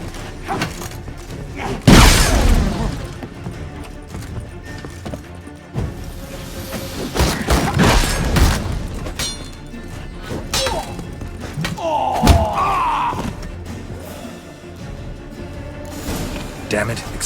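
A vault door is blown open by an explosion in The Witcher 3: Hearts of Stone, with a heavy thud and crash followed by rumbling debris and further impacts amid game sounds and background voices.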